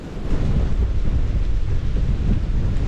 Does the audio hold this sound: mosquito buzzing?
no